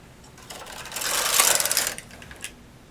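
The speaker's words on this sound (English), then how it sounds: "Now I'm going to knit 4 rows." A domestic knitting machine knits rows of cluster edging: one swishing, rattling carriage pass swells and fades over about a second and a half, followed later by a small mechanical click, close and fairly quiet.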